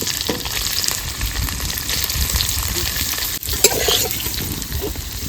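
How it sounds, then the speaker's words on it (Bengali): Egg paneer pieces fry in hot oil in a pan, a continuous close crackling sizzle with occasional stirring clinks, uninterrupted and without speech. "এই ডিমের পনিরগুলো ভেজে নেবো"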